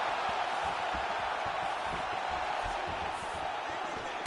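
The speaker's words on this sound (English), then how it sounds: "you hear the crowd react every time they come together" Arena crowd noise from the UFC 4 video game, a steady dense roar that swells as fighters trade strikes, loud and continuous throughout.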